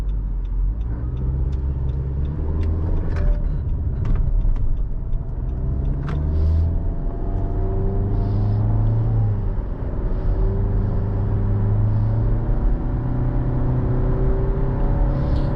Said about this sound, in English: The engine does drone a little bit too with that CVT